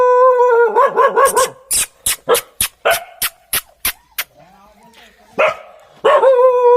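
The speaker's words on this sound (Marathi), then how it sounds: "इथं ठेवलं तर ते पिल्ले आहेत कुत्र्याचे" Several small puppies rescued from a well yelp and whine in quick high-pitched bursts, a rapid run of sharp yips in the middle, close by and fairly loud.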